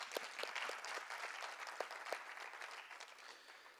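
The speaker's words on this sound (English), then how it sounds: "a round of applause again" Applause from an audience at a university student parliament launch, a moderately soft, steady patter of many hands with a few sharper individual claps standing out, slowly tapering off near the end.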